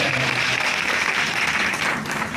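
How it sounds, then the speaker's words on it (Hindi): Loud, sustained applause from an audience at a business achievers' event in Manesar, Gurgaon, honoring Mr. Mukesh, a dense steady wash of clapping with no voices over it. "मिस्टर मुकेश सर के लिए एक बार जबरदस्त तालियां"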